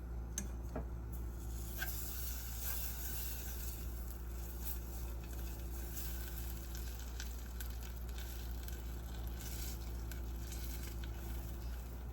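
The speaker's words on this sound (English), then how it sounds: "so we'll add 1 tablespoon of butter." Butter sizzles as it is added to chicken frying in a pan for honey garlic parmesan fried chicken, a steady continuous crackle with scattered pops and no talking.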